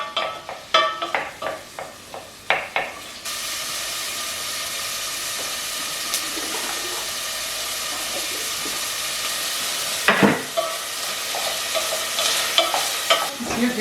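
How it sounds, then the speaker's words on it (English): Chopped onion sizzling in hot oil in a pan while cooking a Sri Lankan meal, opening with a few sharp clinks and stirs before a steady loud hiss of frying takes over and swells again near the end. "we're going to heat some oil in the pan, add 1 onion"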